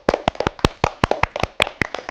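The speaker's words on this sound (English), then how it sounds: "Let's clap for ourselves." A school class clapping hands together, sharp separate claps close by in a quick uneven rhythm, roughly a dozen or more, with no talk over them.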